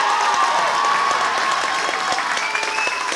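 An audience breaks into sustained applause on cue, dense steady clapping with a little cheering mixed in, loud and continuous throughout.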